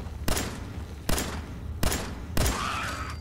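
Four sharp pistol shots in Fallout 4, fired at a steady, deliberate pace about three quarters of a second apart, each cracking loudly over a low background hum with no talking.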